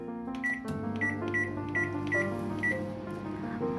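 A microwave oven runs while cooking bhapa doi, giving a steady, close mechanical hum with some faint tonal blips over it and no speech.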